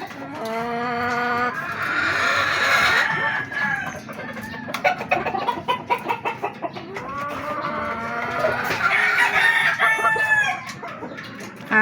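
Gamefowl roosters crowing repeatedly, with clucking in between, from birds back in their cages after breeding. Loud and close, long drawn-out crows near the start and the end.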